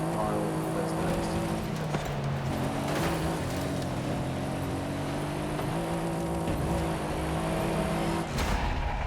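A race car engine roars steadily through a Forza Horizon 5 race, sustained revving with shifting pitch and a brief drop near the end, with a voice talking over it.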